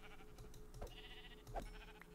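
Sheep in the Minecraft video game bleat faintly twice over a steady low background hum, each bleat short and nasal, roughly three-quarters of a second apart.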